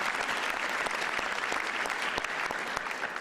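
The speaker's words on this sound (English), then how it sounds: "That's what they're applauding about." Audience applause at the swearing-in of LA County Sheriff Robert Luna, a sustained wash of many hands clapping from a large crowd, steady and moderately loud throughout with no talk over it.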